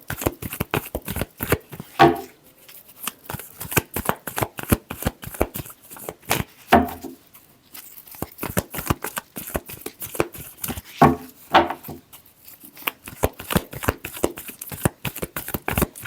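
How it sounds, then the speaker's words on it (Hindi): Tarot cards are shuffled by hand, close up, in a long run of crisp riffling and slapping bursts. Brief pauses fall between them and the rhythm stays quick and uneven throughout, with no speech over it. "Last shuffle."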